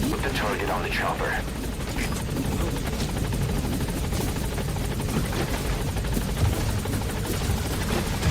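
Helicopter rotor and engine roar steadily and loudly in the Metal Gear Solid V game, under overlapping speech and some gunfire-like bursts.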